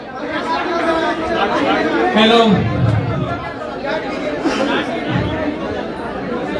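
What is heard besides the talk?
noisy crowd chattering at a press conference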